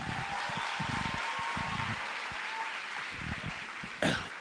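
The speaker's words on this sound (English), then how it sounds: "Round of applause." Students at a Grade 10 maths workshop give a round of applause, a steady spread of clapping with bits of nearby voice and a sharp knock near the end.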